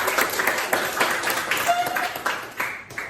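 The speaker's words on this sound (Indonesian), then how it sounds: "Oke, tepuk tangan buat Messi dong." A small group claps steadily in a classroom lesson, a brief ripple of applause heard close up, with a voice mixed in beneath.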